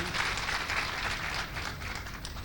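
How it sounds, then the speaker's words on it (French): An audience at a televised event in a Bamako hotel applauds steadily for the whole stretch, a dense, even wash of clapping with no single claps standing out. "Donc applaudissez pour eux."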